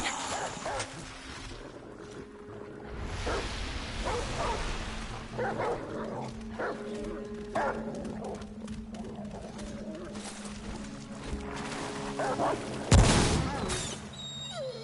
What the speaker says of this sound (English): I hate shooting dogs.